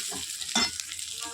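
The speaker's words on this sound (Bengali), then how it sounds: "এটাকে দিয়ে ভালো করে একটু নাড়াচাড়া দিয়ে নি।" Chow mein sizzles in a pan as it is stirred, a quick burst of frying hiss with one louder scrape of the utensil, brief and close, with no voices.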